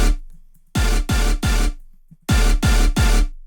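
Rave stab synth chords processed with the Maximus plugin on its Clear Master RMS preset, played as two groups of three loud, punchy, evenly spaced hits with sharp attacks and quick decays, separated by near silence.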